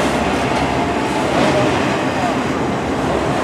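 A Norfolk Southern autorack freight train rolls past in Spartanburg, South Carolina, a loud continuous rumble and roar of rail cars with faint clatter, steady throughout.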